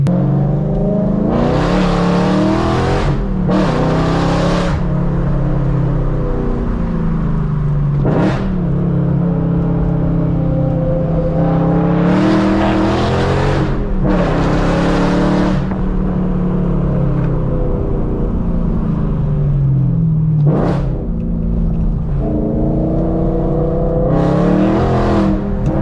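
A loud BMW E92 M3 V8 on a canyon drive revs hard through repeated bursts of acceleration and gear changes, rising and falling in pitch over a constant close engine drone.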